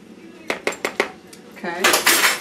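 Cake mix cookie dough being stirred in a bowl, with four quick clinks of a spoon against the bowl followed by a louder stretch of scraping and clattering, close by.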